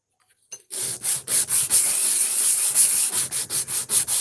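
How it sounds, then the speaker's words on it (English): Sandpaper rubs back and forth on a wooden axe handle in quick, regular strokes, close and alone, a dry rasping rhythm that starts after a brief silence and keeps going steadily. "Get out the sandpaper."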